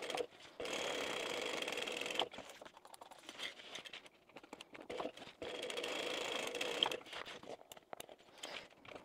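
A sewing machine quilting a fabric bag runs in two long bursts of rapid mechanical stitching, close and moderately loud, with a brief pause and small handling clicks between them.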